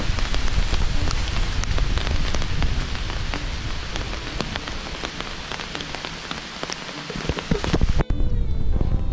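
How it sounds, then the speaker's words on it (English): Steady, heavy rain pattering on a surface along the Appalachian Trail, a dense continuous hiss with scattered louder drops throughout. "it's raining."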